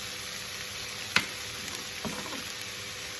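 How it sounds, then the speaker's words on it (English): Mushrooms and onions frying in browned butter give a steady, even sizzle throughout, with one brief sharp clink near the start. "then you just put them mushrooms and onions in there."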